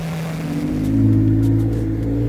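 A Can-Am Ryker three-wheeler with upgraded tie rods and steering picks up speed, its engine drone swelling and climbing in pitch, steady and close, with no talk.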